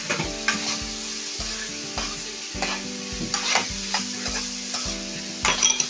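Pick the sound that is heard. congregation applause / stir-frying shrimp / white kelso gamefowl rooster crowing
stir-frying shrimp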